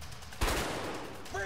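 Gunfire in the video game A Way Out erupts as a sudden, dense burst of shots that rattles on briefly at moderate volume.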